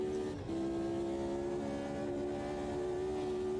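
Audi TT race car in a racing video game at Gelleråsen, its engine held high in the revs as a steady, strongly tonal drone, briefly dipping at a gear shift to fourth before resuming.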